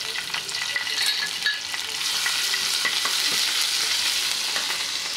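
Crushed garlic, curry leaves, green chillies and a red chilli with a pinch of asafoetida fry in hot oil in a pan. A close, continuous sizzle runs alongside spatula stirring.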